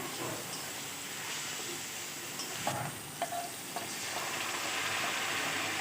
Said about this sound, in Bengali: লবণ আর হলুদ গুঁড়ো দিয়ে প্রথমে টমেটোটা আমি ভেজে নিব